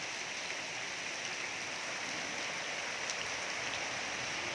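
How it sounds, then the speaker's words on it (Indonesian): Rainwater pours off roof tiles in a steady, dense hiss of falling water and drips, continuous and even throughout with no voices. "Itulah kenikmatan turunnya air hujan dari genteng."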